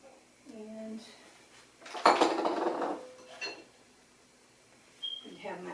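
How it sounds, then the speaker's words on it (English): A spoon clatters and scrapes against a bowl while brownie batter with butter is stirred, a loud burst of mixing in the middle with quieter clinks around it, and a voice briefly heard at the start and end. "I have a spoon here to stir it all up with"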